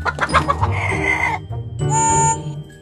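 Chickens cluck and squawk close by in a short burst of agitated calls, one higher drawn-out squawk toward the end.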